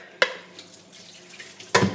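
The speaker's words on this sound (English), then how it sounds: "So I'll pour all my wet ingredients there." Wet carrot cake ingredients are poured into a mixing bowl, with two sharp knocks or clunks at the start and end and quiet liquid pouring between them.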